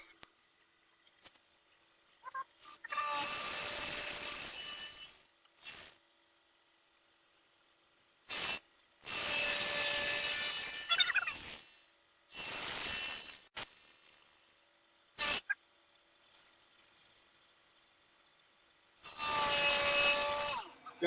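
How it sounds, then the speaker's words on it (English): A milling machine cuts metal while making a hand louver tool, in four loud bursts of high, ringing cutting noise separated by quiet pauses and short clicks, with no talking. "I turned the mill down a little bit. It was a little faster than I wanted it to be."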